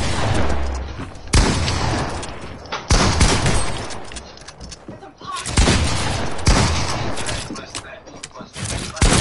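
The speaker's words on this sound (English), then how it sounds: "With your shotgun, you can." Heavy shotgun blasts in a PS4 video game, several loud booming bursts in irregular succession with a dense, noisy tail, mixed with game sound and some voice.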